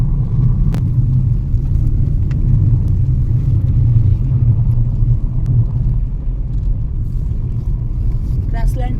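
A Mahindra vehicle's engine runs with a steady, loud low rumble throughout, as if heard from inside or right beside the vehicle, with a few faint clicks on top.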